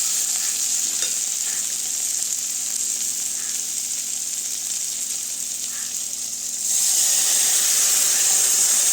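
Tamarind juice poured into a pan of simmering stew with egg, prawn and fritters, giving a steady frying hiss and sizzle that surges louder partway through, close and continuous, with no talk.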